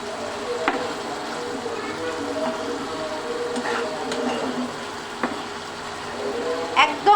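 Egg curry with coriander leaves sizzles softly in a pan as it is stirred, with scattered scraping clicks over a low, steady frying hiss while someone talks.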